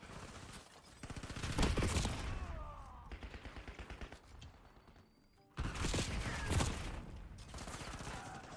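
Merrick 556 rifle with a mono suppressor firing in a video game, rapid bursts of close muffled shots in two strings separated by a short pause, with game noise between.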